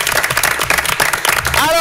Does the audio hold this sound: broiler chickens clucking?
no